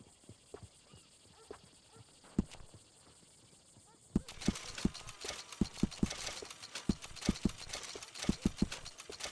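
Horse hooves clip-clop along in Red Dead Redemption 2, a steady walking rhythm of sharp distinct thuds that grows busier and louder midway as a broad hissy ambience comes in.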